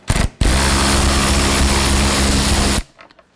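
A power driver spins out tail light screws on a 2019 Subaru Forester, one steady whirring burst lasting a couple of seconds after a short blip, close and loud, then quiet handling noises.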